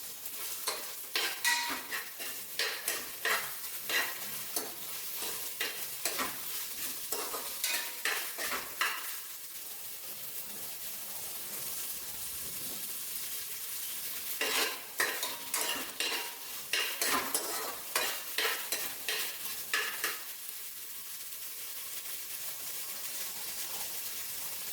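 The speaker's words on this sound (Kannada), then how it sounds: "Two ಸ್ಪೂನ್ನಷ್ಟು ginger garlic paste ಹಾಕ್ಕೊಬೇಕು. ಇದನ್ನ ಸ್ವಲ್ಪ ಫ್ರೈ ಮಾಡೋಣ." Ginger garlic paste fries in a pan for chicken biryani, a steady soft sizzle under repeated close scraping and stirring strokes that come in bursts with quieter stretches between them.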